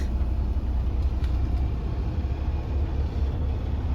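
A 2024 Freightliner Cascadia truck engine idling after start-up, a steady deep rumble close by with no talk.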